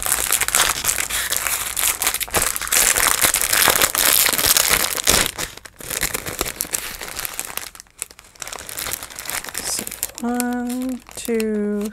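Decorative spring-themed craft paper for a handmade journal cover is crumpled, crinkled and handled up close, continuous rustling with short pauses, and a voice sounds briefly near the end.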